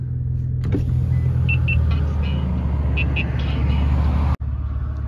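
A tuned Infiniti Q60 rumbles along the road, a steady low drone of tyres and engine heard from inside, with a brief whir partway through and an abrupt cut near the end.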